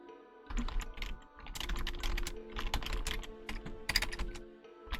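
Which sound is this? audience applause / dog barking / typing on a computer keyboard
typing on a computer keyboard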